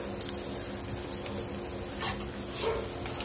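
Asafoetida dropped into a hot garlic tempering with leaves, giving a soft, fairly quiet crackling sizzle with light spattering and a brief stir, no voices.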